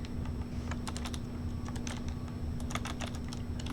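Keys clatter steadily on a computer keyboard as code is typed, a run of quick irregular clicks close by over a constant low electrical hum, with no one talking.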